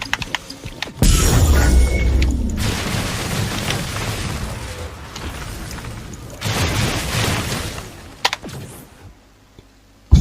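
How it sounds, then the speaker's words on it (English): Loud, dense bursts of explosive booms and crackling blasts from lightning mage spells in the video game Wolcen, rolling almost continuously, with a brief lull midway before another heavy volley. "Use your positioning to gather the mobs, so you got a lot of explosions."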